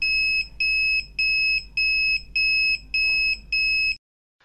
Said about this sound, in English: The device buzzer emits a low frequency beep